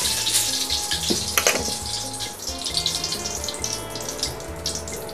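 Mustard seeds for a tomato rasam tempering sizzle and crackle in hot oil, a steady, close, dense frying hiss with scattered sharp pops and no voices.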